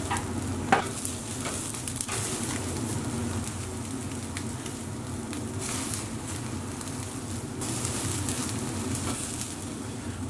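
Persian lamb shish kebab skewers sizzle steadily on the heat, a dense close crackle with a few sharp knocks as the skewers are turned, no voices present.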